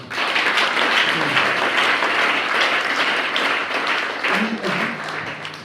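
A church congregation at the closing of a divine healing seminar applauds in a sustained, dense wash of clapping, with a few voices calling out beneath it.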